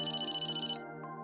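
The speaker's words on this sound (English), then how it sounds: "Oh, the phone's ringing." A single brief electronic phone ringtone chimes from a game, a steady tonal burst that fades partway through.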